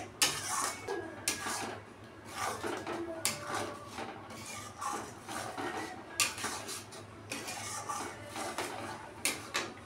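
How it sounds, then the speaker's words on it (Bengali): A metal spatula stirring masala in a pan for a prawn-stuffed pointed gourd dolma, with irregular close scrapes and clinks of utensil on pan over a quiet kitchen background. "এবার আমি ভালো করে এটাকে মশলাটাকে নাড়বো খুন্তি দিয়ে।"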